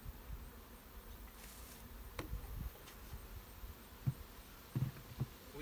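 Honey bees buzz softly around a hive with a honey super on top in a continuous low hum, with a few faint thumps and knocks mixed in.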